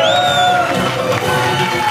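Crowd cheering and whooping at a wedding cake cutting, loud and continuous with shouted voices and a few high whistles ringing over the noise.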